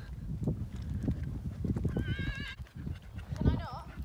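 A pony walks along with muffled hoof clops, with two brief high squealing whinny-like calls, while voices murmur nearby.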